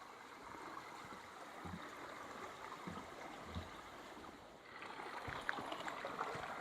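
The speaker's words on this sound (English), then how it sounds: "Just following the stream now for a bit." A stream flows through autumn ancient woodland, a soft continuous wash of water that stays faint and steady, swelling slightly brighter near the end, with no voices.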